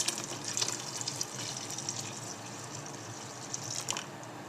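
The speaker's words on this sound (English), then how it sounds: "to this mixture we're going to add all of the lemon juice" Lemon juice is poured into a strawberry puree mixture in a pot, a soft continuous liquid splash and trickle lasting a few seconds with light wet squishing, close and fairly quiet.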